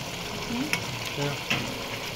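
Mustard paste and water go into a sizzling pan of cauliflower stem curry, with a close hiss and a few sharp clinks and scrapes of stirring, plus a brief faint vocal sound.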